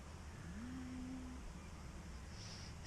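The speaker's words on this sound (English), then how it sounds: "So that was the cow sound eating." At night outdoors, a single cow gives a low, drawn-out call that holds steady for about a second over a constant background hiss, faint and somewhat distant.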